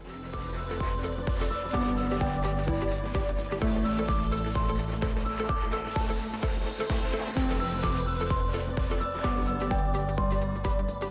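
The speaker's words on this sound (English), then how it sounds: "let's try another method, and that's a standard scouring pad" A standard scouring pad scrubs stubborn stains on a Sinclair C5 during restoration, a continuous close rubbing and scraping with steady, dense texture and short back-and-forth strokes, loud and alone without speech.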